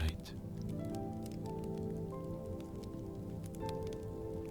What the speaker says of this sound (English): The traveler listened to the rain without trying to count the sound.